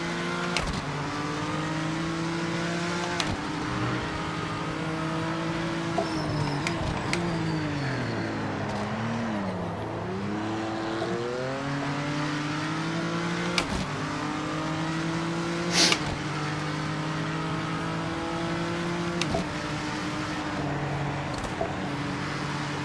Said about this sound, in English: It's the first time I've driven the BMW too, since the whole overhaul.